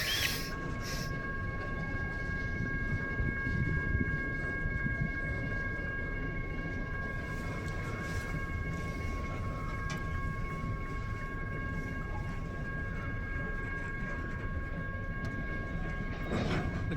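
A BNSF mixed freight train with tank cars rolls past at night, a steady loud rumble of wheels on rail holding for the whole stretch, with faint sustained tonal squeals above it and no talking.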